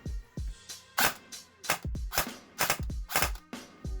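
An ICS CES-P A5 S3 airsoft MP5 fires a string of sharp, loud shots in uneven pairs and clusters, double-tapping on an 11.1 V battery, close up with no talk.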